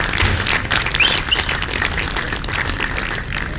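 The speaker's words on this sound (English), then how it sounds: "please give a round of applause to Team 1, everyone" Applause from spectators at an archery compound teams gold medal match for Team 1: a dense, steady wash of clapping from a crowd, moderately loud and continuous throughout.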